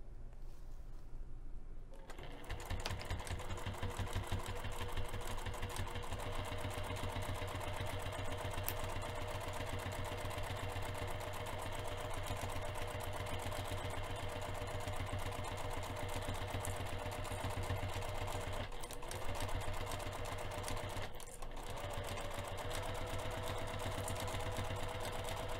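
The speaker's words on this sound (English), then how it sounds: "let's go ahead and get this over to the sewing machine." A sewing machine stitches fabric with a steady mechanical whir and rapid, even pulsing, running continuously at close range, briefly pausing twice near the end, with no voices.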